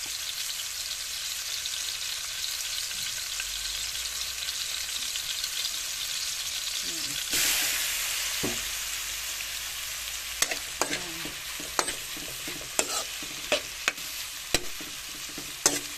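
Radish (labanos) being sautéed and stirred in a pan, a steady close sizzle with sharp scraping clicks and spatula knocks coming more often toward the end, no voices.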